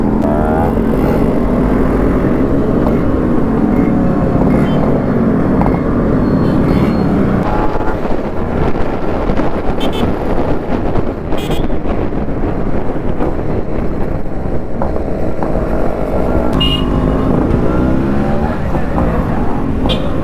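A TVS Apache motorcycle engine hums under heavy wind rush while riding along the road into Erode, loud and continuous throughout.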